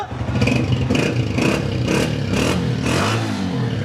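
A nearby Honda CB125F 125cc self-start motorcycle engine revs repeatedly, rising and falling in a rhythmic series of throttle blips over a steady idle.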